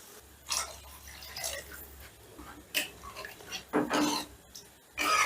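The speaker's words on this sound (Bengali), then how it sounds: "এবার জলটা মশলার সাথে একটু মিশিয়ে দিলাম" Water being stirred into cooked spice masala for a potato bora gravy, with intermittent spoon scrapes, clinks and wet sloshing against the pan, close and moderately loud.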